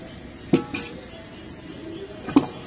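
A ladle clanks against a large pot of chicken biryani cooked for fifteen people. Two distinct metallic knocks sit over a soft, low scraping of rice being mixed.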